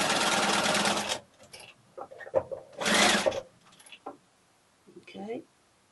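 Sewing machine stitching a dark fabric strip along its long side for a log cabin quilt block, a loud steady whir in two bursts, about a second each, with talking in between.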